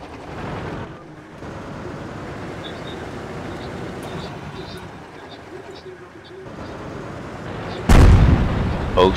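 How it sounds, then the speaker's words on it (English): Artillery fire in the World of Tanks video game, with low rumbling gameplay noise and scattered pops ending in a sudden loud explosive blast near the end, as someone talks. "yep, there's artillery"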